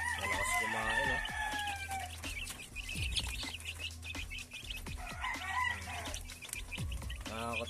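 Chicks and chickens, including green-legged birds, cluck and peep steadily while feeding, with a rooster crowing among them; dense, close flock chatter runs throughout.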